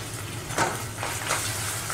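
Ginger-garlic paste sizzles steadily in a hot pan with oil, with soft stirring scrapes rising and falling over a constant close frying hiss.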